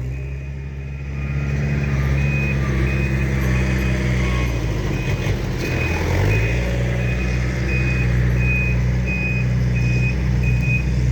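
An excavator's reversing alarm beeps in an even, repeating rhythm over a loud, steady diesel engine rumble, close by and with no talk.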